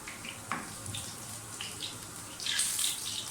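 A few onion pieces dropped into hot oil sizzle close by in short hissing bursts, swelling into a louder, denser crackle toward the end.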